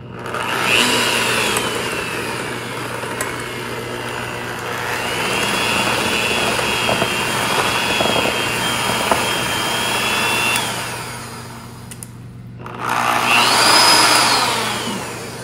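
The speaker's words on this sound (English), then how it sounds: "And we're just gonna mix it just a little bit." An electric mixer whirs loudly while beating egg whites with dried egg white powder added for protein-sparing pretzels, running steadily, dipping briefly to near silence around twelve seconds, then starting up again; no speech.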